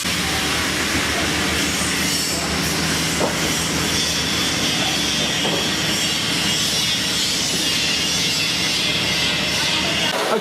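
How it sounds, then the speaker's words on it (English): Abrasive blasting inside the tanks of the submarine HMS Alliance, heard through the pressure hull from the control room, makes a continuous loud broadband roar and hiss with faint clattering, unbroken throughout and without speech. "you can hear behind me the noise of the blasting"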